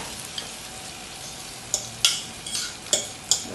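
Eggs scrambling in a hot oiled pan while making a Basque-style tortilla, a steady sizzle and frying hiss with sharp scraping knocks of a utensil stirring at irregular intervals, loud and close, no voices.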